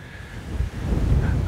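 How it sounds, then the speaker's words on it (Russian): Southwesterly wind sweeps across the seafront at Golubitskaya in October, a steady low buffeting rumble on the microphone that grows stronger in the second half, with no voices. "Сегодня ветерок юго-западный."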